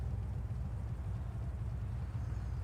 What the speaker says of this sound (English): I don't know how well you guys can hear that, but the idle's mean on it.